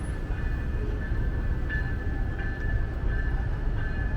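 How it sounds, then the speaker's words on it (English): A GO train rolls past in downtown Toronto near Lower Simcoe Street, a steady, moderately distant rumble with faint squealing tones over the city background. "And I hear a GO train passing by."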